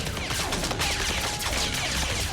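Gunfire rings out in an animated Transformers Robots in Disguise episode, a dense, continuous barrage of blasts and crackling impacts that fills the whole moment loudly without any speech.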